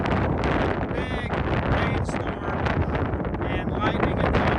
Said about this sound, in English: We are on top of Max Patch Ball, and it is very windy.